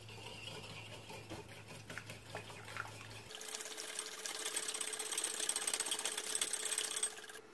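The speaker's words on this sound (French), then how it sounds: "Ensuite, on mélange le tout juste au fouet." Pancake batter made with yogurt and liquid vanilla being whisked by hand, a soft, steady scraping and sloshing that grows a little busier partway through, with no one speaking.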